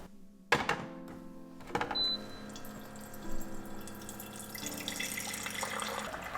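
A Simpure countertop water filter machine clicks and thunks as a button is pressed, then dispenses water that trickles and splashes steadily into a container, close and fairly quiet.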